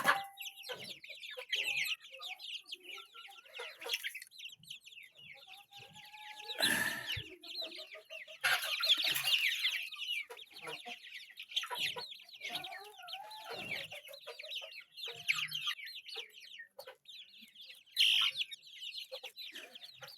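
Young chicks and chickens cluck repeatedly in short bursts, with a rooster-like call or two standing out among the busy, close-up farmyard chatter.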